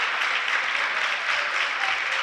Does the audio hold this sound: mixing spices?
no